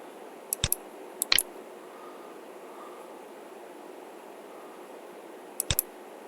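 A few sharp, isolated taps on a computer keyboard, in three quick clusters, are spread across a quiet room with a faint background hiss.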